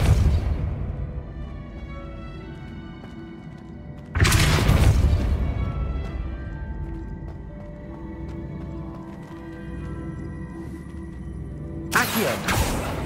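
A Depulso force spell cast in Hogwarts Legacy lets out two loud, sharp blasts, the first near the start and the second near the end. Quieter game sounds fill the gap between them, and no one speaks.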